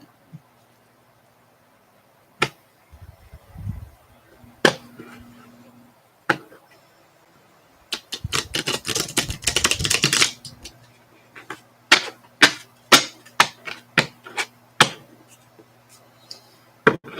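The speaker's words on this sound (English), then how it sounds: "I'm going to use tarot for that, but I'm going to shuffle really good" Tarot cards being shuffled: scattered crisp taps and snaps, then a dense two-second riffle burst, followed by more quick card slaps close by.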